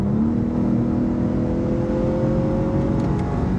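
A 2018 Lexus LS 500 Sport engine accelerating under manual paddle shifting, a loud steady rising drone with the revs climbing smoothly over several seconds inside the car.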